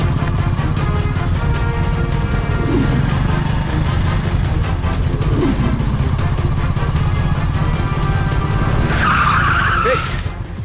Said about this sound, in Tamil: ஏய், எதிரில வண்டி வருது